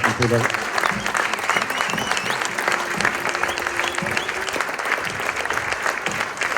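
An audience at a concert by the OAE association in Euville Carrières gives sustained, even applause for several seconds, a thick crowd of clapping hands with faint voices beneath.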